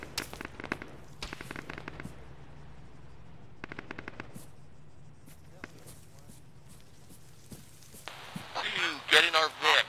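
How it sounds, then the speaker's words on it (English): Enemy gunfire from a distant shooter in the military shooter game Arma, a ShackTac session: scattered bursts of shots crackle in clusters, with another sharper, louder burst near the end and radio-style talk among players. "There's a guy to your west somewhere shooting at us."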